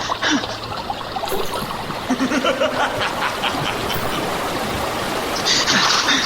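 Water rushing through an opened sluice gate, a continuous loud gushing and splashing flow that sounds close throughout, with brief voice-like sounds mixed in.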